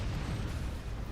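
Flak cannons fire and burst in the Forts strategy game, a rumbling barrage of deep booms and pops layered together, continuous and fairly loud with no speech.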